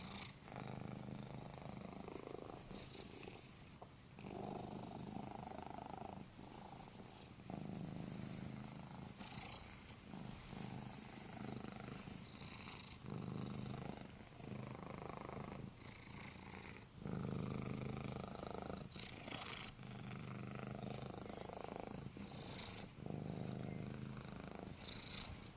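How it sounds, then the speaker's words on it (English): A kitten purrs close up in a steady rhythmic rumble, each breath cycle pulsing on and off, with brief rustling in between. "I don't know if you guys can hear all this purring going on too"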